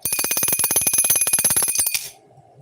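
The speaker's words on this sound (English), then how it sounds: "We're gonna smack that bell with each like that we get today." A bell is struck rapidly over and over during an outdoors livestream, a fast metallic ringing of about twenty hits in two seconds, loud and close, then a short ringing decay.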